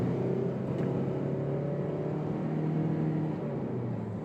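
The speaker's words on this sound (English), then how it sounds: "When you floor the accelerator pedal, that's the only time it gets a little bit noisy." A 2019 Toyota Corolla's engine drones steadily under full throttle, a muffled, even hum with no sharp peaks, heard from inside the car.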